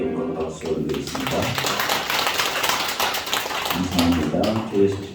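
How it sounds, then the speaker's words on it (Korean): A church congregation breaks into sustained applause, a dense wash of clapping from many hands lasting several seconds, with voices heard at the start and end. "하나님께 영광 박수 올리겠습니다."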